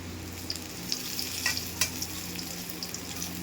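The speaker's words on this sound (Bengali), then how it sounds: "তারপরে ভালো করে তেলে ভাজবে এইভাবে যেভাবে ভাজছি" Steady sizzling of stuffed bitter gourd frying in hot oil, with a few soft stirring scrapes, close and continuous.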